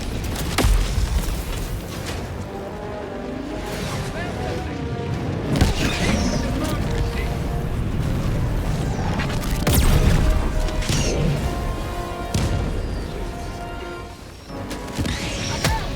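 Continuous heavy booms and crashing blasts from an air strike in the video game Helldivers 2, dense and loud throughout with rumbling debris and mechanical clatter layered over one another.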